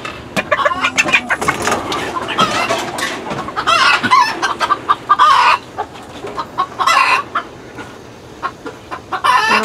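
Chickens cluck repeatedly on a rural provincial property, with sharp bursts of clucking and squawking near and far over a noisy outdoor background.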